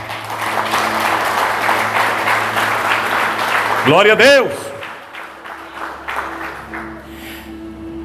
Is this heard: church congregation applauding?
yes